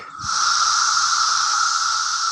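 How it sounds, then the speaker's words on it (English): Cicadas in roadside bushes give off a loud, continuous electric buzz that starts abruptly after a brief quiet moment and then holds steady and close, with no pauses and nobody talking over it. "That's the sound of cicadas."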